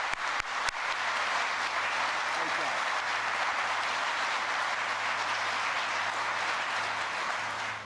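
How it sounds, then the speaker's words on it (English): Crowd applause at a plant groundbreaking in Lancaster, Ohio, a broad sustained roar of clapping from a large gathering that carries on evenly for several seconds, with a low hum beneath. "would you all join me in giving a well-deserved round of applause to Scott Lavoie"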